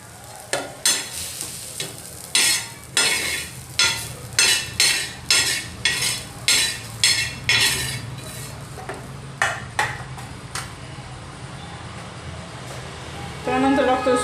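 Roasted onion is scooped out of a pan with a metal utensil, giving a run of rhythmic scraping strokes against the pan over a low sizzle, with a brief clatter near the end.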